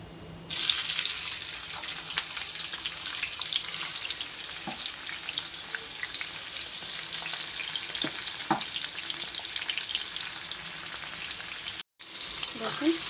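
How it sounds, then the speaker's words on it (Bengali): Chopped onions go into hot oil for chicken biryani and fry with a loud, continuous sizzle and scattered pops, cut off by a brief silence near the end. "তেলটা গরম হয়ে এসেছে, এবার আমি এর মধ্যে এই পেঁয়াজ কুচিগুলো দিয়ে দেবো।"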